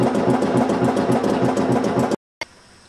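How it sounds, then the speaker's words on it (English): Gear cutting machine cutting teeth into a transmission input shaft coupler for an electric car conversion, a loud, steady rhythmic churning and rattling that stops abruptly, followed by a brief knock and quiet hum. "This is the coupler being made, cutting the teeth into the gears for the transmission input shaft."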